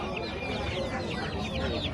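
33-day-old chicks clucking and peeping continuously at a busy poultry market, a dense crowd of small birds close by with faint talk in the background.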